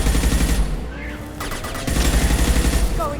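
Gunfire from a Mass Effect 2 firefight rolls on loud and continuous, rapid bursts layered over heavy low rumble, with brief voices heard amid the shooting.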